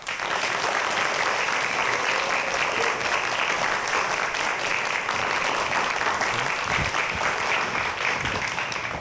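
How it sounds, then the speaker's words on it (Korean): An audience claps steadily and densely at a Korean lecture event, welcoming a professor who studies nature. The applause is sustained and fairly even, with no voices over it. "차국헌 교수님 큰 박수로 맞도록 하겠습니다"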